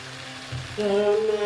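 Chili powder dropped into a pan of dried fish curry frying in oil, a soft steady sizzle that swells louder partway through as the spice hits, close and continuous with no talk.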